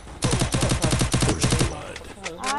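Rapid automatic gunfire in Free Fire, a dense burst of close shots for about a second and a half, then scattered echoes and game effects.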